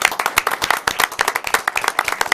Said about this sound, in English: We join with Parish Council Chairman Pat Bell and the entire Parish Council in applauding your dedication